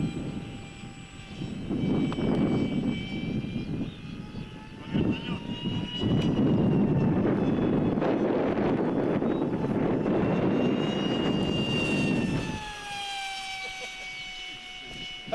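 A model aircraft flies at half throttle on a windy day, its engine drone rising and falling as it passes, loud and continuous for most of the stretch with gusty wind noise underneath.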